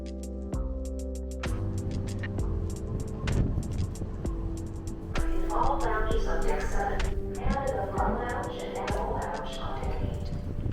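A car travels along a road on the way to a ferry terminal, a steady rolling hum with intermittent clicks and rattles. Voices and music sit on top throughout.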